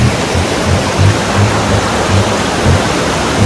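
River water rushes steadily at a crossing, a loud, continuous broadband roar with periodic low surges, close and unbroken, with no voices over it.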